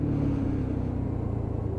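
Lexmoto Isca motorcycle engine pulling under load on an uphill stretch, a steady low rumbling drone that stays loud and even throughout, with no voices.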